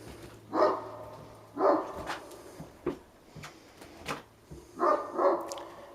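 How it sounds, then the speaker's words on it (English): A dog in a neighbor's yard barks repeatedly at a moderate distance, single and doubled barks spaced irregularly over a few seconds, with no voices. "the dog's barking continues"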